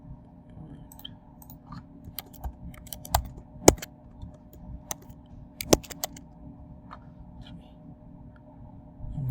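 Password keys tapped on a computer keyboard during web user setup, with irregular bursts of light clicks and a few sharper keystrokes over low room hum; no one speaks.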